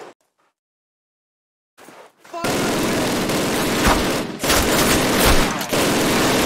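Sustained machine gun fire from a Call of Duty PC match, loud and dense, starting after a near-silent gap with a few scattered shots, then continuous rattling bursts with brief dips.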